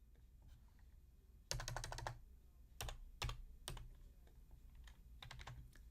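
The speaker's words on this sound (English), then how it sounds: "then I'll just type it in" Typing on a computer keyboard while setting up a standard 8.5 by 11 paper size, with bursts of quick keystrokes and pauses between them, close and clear with no talking.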